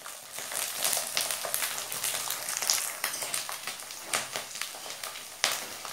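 Sabudana (sago) frying in hot oil for a vrat namkeen crackles and pops densely and continuously, close up and fairly loud, with no voices over it.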